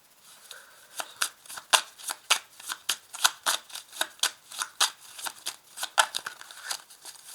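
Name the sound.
tarot cards being shuffled and laid out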